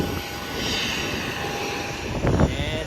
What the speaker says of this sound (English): And this is our plane.